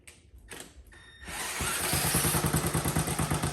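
A Honda Z50K2 motorcycle's small engine catches after a few clunks and settles into a steady, close, rapid putter that gets slightly louder, with no talking.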